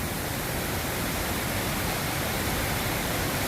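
A waterfall beside the Appalachian Trail roars with a dense, unbroken hiss of rushing water, loud and close, with no break over the whole span.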